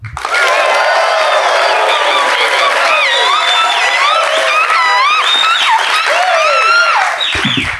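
A live in-person audience at a talk with Google X CEO Astro Teller bursts into loud, sustained applause with cheering, whoops and excited shouts filling the room.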